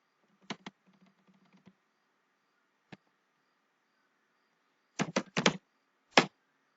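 Computer keyboard keys click in a few sparse, quiet bursts, with a short run of taps near the start, a single tap midway and a quick cluster near the end over a faint steady hum.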